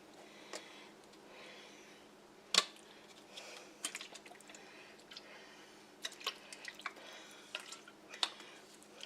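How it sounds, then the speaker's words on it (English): Worcestershire sauce is poured in a thin stream while cooking sweet and sour chicken, giving faint drips and soft liquid splats with a few sharper ticks over quiet room tone. "A little Worcestershire sauce."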